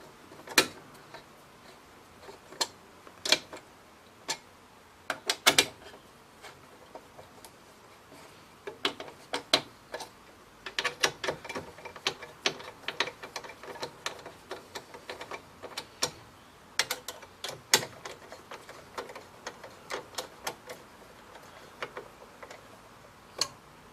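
Small fasteners are tightened on a PCB input panel, producing scattered sharp clicks and ticks close by, irregular and sometimes in quick bursts, over a quiet background with no talking.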